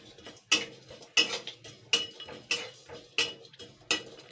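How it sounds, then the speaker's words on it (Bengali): Dry chillies and whole spices are stirred in a pan, with about seven evenly spaced metallic clinks and scrapes of a utensil against the pan, close and distinct over quiet background. "এবার আমি এটাকে আমি হালকা নাড়াচাড়া করে নেবো, 2 মিনিট মতন ভেজে নেবো।"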